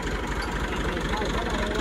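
A tractor engine runs in a rural setting, a steady low rumbling idle with rapid pulsing throb that continues throughout, fairly close and loud.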